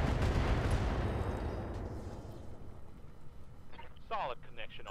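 A heavy mech weapon volley in Roguetech, a loud booming blast that rumbles and slowly fades over several seconds, followed by someone speaking at the end.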